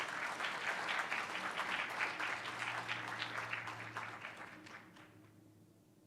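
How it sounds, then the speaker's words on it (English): At a school board meeting, a roomful of people applauds honorees. The clapping is dense and even, then thins and fades out over the last two seconds, and the whole passage is quiet, as if heard from some distance. "Let's give them another round of applause."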